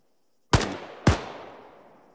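Two heavy gunshots from a rifle in a video game, about half a second apart, each a sharp close crack with a long fading echo tail.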